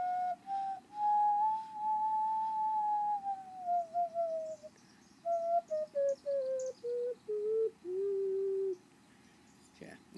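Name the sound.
ceramic ocarina playing a scale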